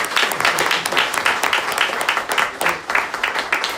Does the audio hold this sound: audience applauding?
yes